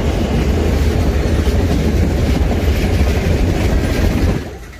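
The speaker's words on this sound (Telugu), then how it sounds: "గాలే రైల్వే స్టేషన్ వచ్చేసాను." A train at Galle railway station in Sri Lanka rumbles steadily and loudly with a dense low roar, then cuts off and fades near the end.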